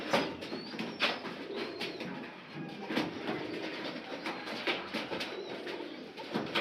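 Pigeons coo in soft, repeated throaty calls inside a loft or coop, fairly close but moderate in level, with a steady low background and no voices.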